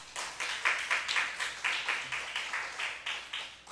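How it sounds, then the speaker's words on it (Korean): A church congregation claps in unison during a Wednesday daytime worship service, an even, rhythmic beat of roughly four claps per second, moderately loud and with no voices over it. "하나님께 영광의 박수 올리겠습니다"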